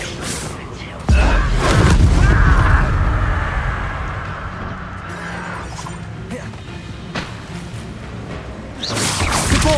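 Spell blasts from the Depulso and Confringo spells cast in the video game Hogwarts Legacy, a loud booming crash with whooshing impacts that swells and fades, then another burst near the end, while a voice shouts over the action.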